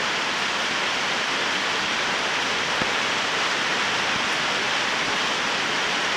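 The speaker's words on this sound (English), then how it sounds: "Oh, look at that water running down." Rainwater pouring and trickling down into a garage through a hole, a loud, steady broadband rush of running water close by, with faint dripping and no talk.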